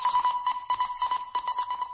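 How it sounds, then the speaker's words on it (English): A short electronic alarm jingle plays on a radio show, a rapid pulsing beep pattern repeating in quick bursts, moderately quiet and alone. "That's our phrasal verb alarm."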